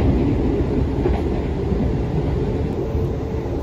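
A steady, loud rumble inside the moving Logawa economy-class passenger train in Indonesia fills the space, with continuous low clatter and hum from the carriage and no talking.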